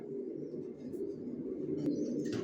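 A pair of grizzle racing pigeons, a white grizzle hen and a cock, coo softly and steadily at close range, a low continuous murmur with no talking.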